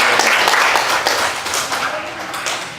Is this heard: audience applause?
yes